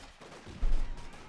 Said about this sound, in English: we got a big push here of Momo4sho, backing up here this time with rifle grenades on the rear echelons